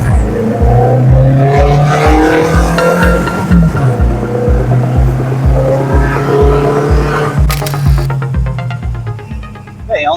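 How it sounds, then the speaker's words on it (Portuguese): A VW Brasília fitted with a Porsche-like exhaust pulls hard from 0 to 100 km/h, engine climbing through gears with a loud throbbing pulse, brief gear-change dips, and a squeal near the end. "a gente vai tirar um 0 a 100 agora com esse carro aqui"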